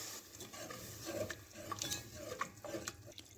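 Milk being stirred into a flour-thickened pudding mixture in a pan, with soft scraping and sloshing strokes of a spoon repeating steadily, fairly quiet and close, with no talking.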